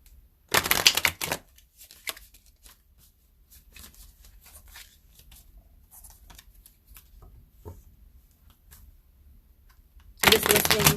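Two brisk bursts of card shuffling, one near the start and one at the end, with soft handling rustles and taps in the quiet between.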